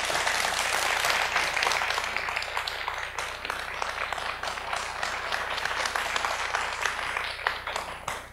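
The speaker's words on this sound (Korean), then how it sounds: "박수로 맞아주세요" An audience applauds steadily to welcome a pansori singer and drummer, a dense wash of clapping from a mid-sized hall that gradually fades toward the end.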